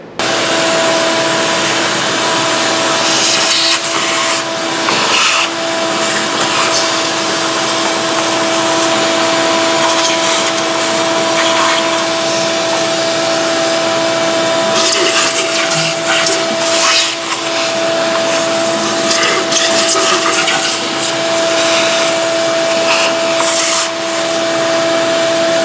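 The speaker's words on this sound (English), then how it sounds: "I'm going to take a vacuum and vacuum all this crap out before I pull that plenum, or the lower intake." A vacuum cleaner sucks debris out of a Jeep Wrangler engine bay, running loud and steady with a constant whine that dips briefly as the nozzle moves, then roars on without pause.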